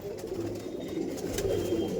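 Pigeons in a loft giving continuous low cooing, several birds overlapping in a steady murmur at close range.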